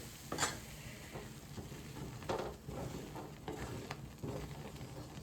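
Mysore pak batter of gram flour and sugar syrup being stirred in a pan as hot ghee and oil are poured in, soft scraping strokes over a faint continuous sizzle, close and quiet.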